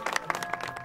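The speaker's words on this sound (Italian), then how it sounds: "Facciamogli un bel applauso lo stesso" Scattered applause from a small audience at an animal show in a park, a brief burst of claps under a faint tonal hum.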